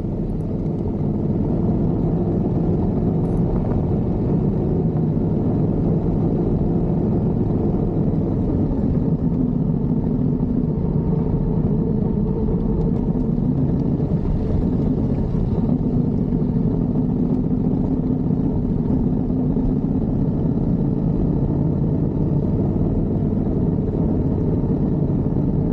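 Steady engine drone from a Yamaha Ténéré 700 motorcycle riding on an asphalt mountain road in Picos de Europa, a continuous loud low rumble with wind noise, unchanging throughout with no talk.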